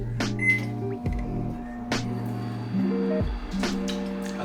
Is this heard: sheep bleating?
no